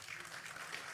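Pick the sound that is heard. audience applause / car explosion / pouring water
audience applause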